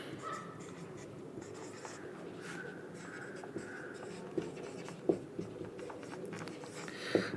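Chalk or marker scratching across a board during a physics lesson on capacitor grouping, soft intermittent strokes with a few sharper taps, set against a steady low room hum.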